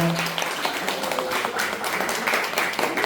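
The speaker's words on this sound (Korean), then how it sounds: "항상 건강하라고 우리 민준이를 위해서 다시 한번 큰 박수 부탁드리겠습니다." Guests applaud at a Korean first birthday party for a one-year-old boy, a steady wash of many hands clapping together through the whole moment, with no talk over it.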